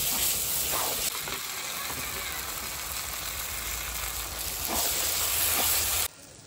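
Red chilli powder sizzling in hot oil in a pan: a steady, bright hiss of frying that holds at an even level for several seconds and then abruptly drops away.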